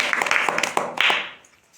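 A classroom of learners claps in unison after a state is correctly placed on a map, a lively burst of close, overlapping claps that tapers off into quiet.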